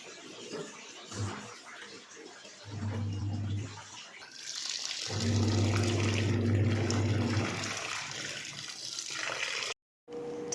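Water gushes steadily into a washing machine loaded with baby clothes, a continuous rushing fill that swells midway and runs on alone before cutting off near the end.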